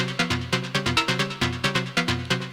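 Arturia MicroFreak synth sequence run through an amp effect for a crunchy, driven tone, with punchy repeating notes in a steady pulsing techno pattern, loud and alone.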